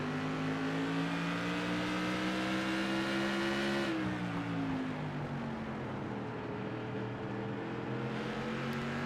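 Race car number 14, race leader in a short-track championship night feature, heard onboard as a loud, steady engine drone that shifts pitch down and back through a corner, close and continuous without talk.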